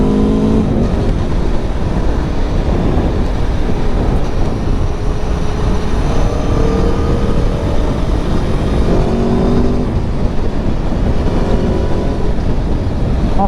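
A 2023 Aprilia Tuono V4 1100 Factory motorcycle runs under load, its V4 engine a loud, continuous roar with pitch rising and falling as it revs through gears, plus steady wind rush and no speech.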